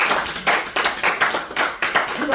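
A congregation at a church service claps in quick, rhythmic bursts, a dense, close round of applause that keeps a steady beat throughout.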